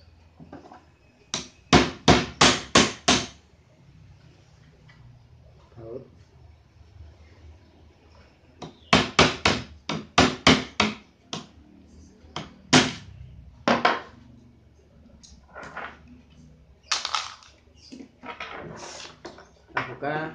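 Hammer blows strike to loosen the motor lock on a Maspion desk fan under repair, loud sharp metallic knocks in quick bursts of four to six, separated by pauses with faint handling noise.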